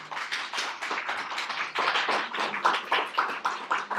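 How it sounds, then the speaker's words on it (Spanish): An audience applauds at a talk on Mexican jewelry design: dense, steady clapping fills the whole stretch at even strength, with no voices over it. "Por favor, démosle un cordial aplauso y bienvenido."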